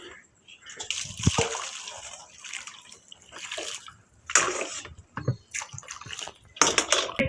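Boiling water splashes and sloshes over goat intestines in uneven bursts, poured in several separate gushes with quiet pauses between them, close by.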